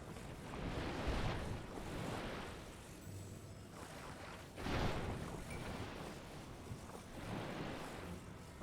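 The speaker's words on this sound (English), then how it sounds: "cause I'm splashing the water?" Water splashing in a Zelda game, heard as broad washing surges that rise and fall in a few waves over steady background noise, with no talk.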